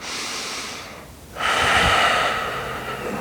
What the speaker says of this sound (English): And breathe with your Ujjayi breathing.